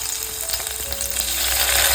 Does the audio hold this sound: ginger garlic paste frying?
yes